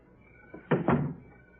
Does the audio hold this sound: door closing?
yes